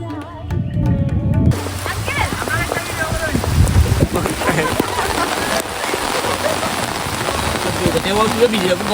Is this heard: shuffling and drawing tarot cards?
no